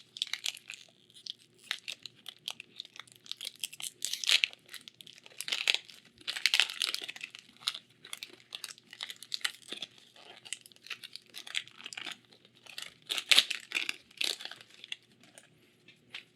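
Foil wrapper of a Magic: The Gathering Phyrexia: All Will Be One booster pack being torn and crinkled open, a long run of close, irregular crackling and ripping bursts with no talking.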